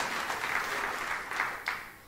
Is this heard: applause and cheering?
yes